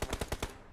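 Gunfire in the mobile battle-royale game PUBG Mobile: five quick, evenly spaced automatic shots in a rapid burst, fairly quiet, with a short fading tail.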